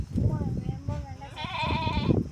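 Lambs bleating in a village farmyard as they are fed buttermilk: a few wavering, nasal bleats, clearest and loudest toward the end, over steady background chatter and people talking.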